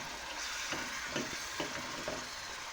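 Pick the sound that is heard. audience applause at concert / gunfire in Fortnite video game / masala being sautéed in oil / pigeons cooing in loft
masala being sautéed in oil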